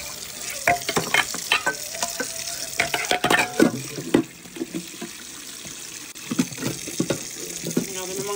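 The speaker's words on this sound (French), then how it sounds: "Et en fait, je fais la vaisselle." Dishes being washed at a kitchen sink under running tap water, with clinks and scrapes of crockery over a steady stream of water, and a brief pause midway.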